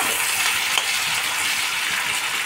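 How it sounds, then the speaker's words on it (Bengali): Green chillies frying in a pan alongside mixed vegetables and paneer, a loud, steady close-up sizzle hissing evenly throughout with no talking. "একটু হালকা ভাজা হবে।"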